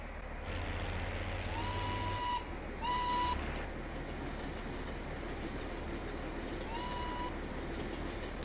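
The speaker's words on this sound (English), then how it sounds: "It's not a steam train, just makes a funny whistle like a steam train." A train whistle in Farming Simulator 19 on the Prostokvashino map sounds like a steam whistle, in three separate blasts over a constant rumbling rail background: two close together, then one more a few seconds later.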